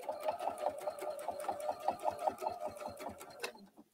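A sewing machine stitches a quilt, running in a steady rapid rhythm of mechanical clatter, close and fairly quiet, then stopping abruptly near the end.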